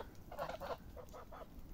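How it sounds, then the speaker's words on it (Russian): Geese honking on a meadow beside an outdoor fire: about five nasal honks in two quick pairs and a trailing call, moderately near and clear against soft background noise. "Гуси посмотрели и пошли назад на луг."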